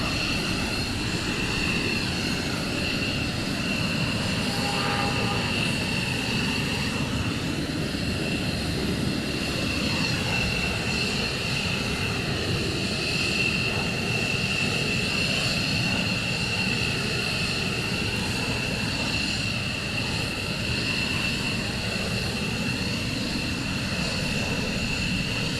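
At RAF Lakenheath, military jet aircraft taxi with a continuous, droning engine roar and a high steady whine that swells and eases slightly but never breaks.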